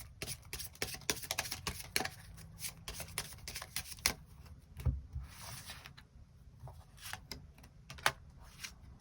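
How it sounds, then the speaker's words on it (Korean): Tarot cards shuffled by hand to draw extra cards, a steady run of quiet, close riffling snaps and soft flicks with no talking. "일별로 월요일부터 일요일까지 어떤 일들이 있을지 추가 카드 뽑아보도록 하겠습니다"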